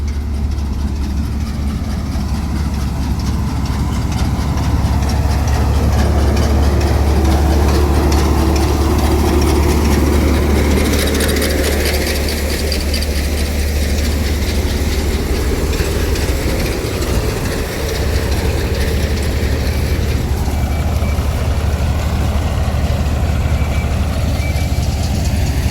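A motorcycle engine runs steadily for a long stretch on a rural village route in the Narmada region of Madhya Pradesh, a constant low drone with road and wind rush layered over it, and no talking.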